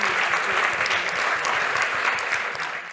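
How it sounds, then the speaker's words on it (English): Conference audience at a data summit giving panelists a round of applause, steady dense clapping from a large hall filling the whole stretch before slowly fading. "Please share a huge round of applause for the fantastic panelists"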